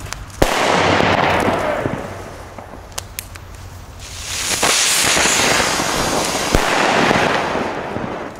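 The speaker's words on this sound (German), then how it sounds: "Funke China-Böller D." Funke China-Böller D firecrackers set off loud sharp bangs followed by dense crackling and hissing bursts that swell and fade twice, close and outdoors, with no voices.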